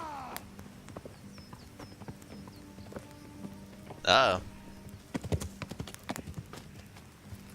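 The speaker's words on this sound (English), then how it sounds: "A messenger. That horse slowed down really weirdly." A messenger's horse in the video game Kingdom Come: Deliverance clip-clops in a faint hoof rhythm that slows, under game music and a few spoken words, with a brief louder burst midway.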